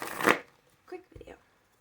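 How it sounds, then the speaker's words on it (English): A deck of cards is shuffled in one quick, close riffle burst, followed by a couple of softer card taps and rustles in a quiet room. "I'm going to shuffle"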